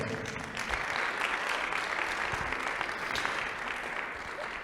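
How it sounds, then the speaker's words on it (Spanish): Sustained audience applause at a human rights panel event, a broad, even wash of many hands clapping throughout, with a faint voice underneath. "a quien les pido a ustedes un fuerte aplauso para ellos"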